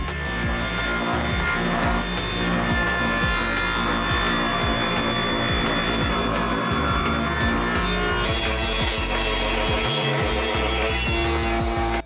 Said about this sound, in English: we'll move on and cut some trim pieces for this top